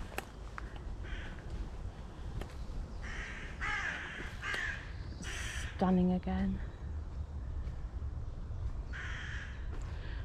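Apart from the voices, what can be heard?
crows cawing in a woodland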